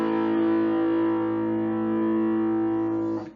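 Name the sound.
power chord of root, fifth and octave through distorted amp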